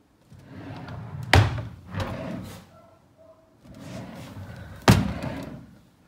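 Kitchen drawers in a rental unit slide open and shut, each closing ending in a sharp thump, two distinct slams a few seconds apart between softer sliding rumbles.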